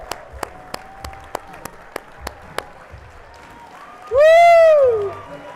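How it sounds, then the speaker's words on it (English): Scattered audience claps ring out sharply one at a time at a social media talk event, then a loud rising whistle-like whoop bursts in near the end. "give them applause."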